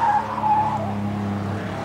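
A Ford Zephyr rally car on a closed road during a classic marathon rally skids past, its engine drone steady and loud with a squealing tyre tone fading over about two seconds.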